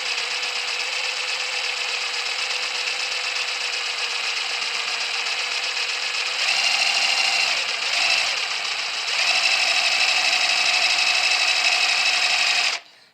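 A drill bores a hole through metal at low speed, giving a steady close grinding whine that lasts several seconds, briefly dips, then resumes a little louder before stopping abruptly, with no voices.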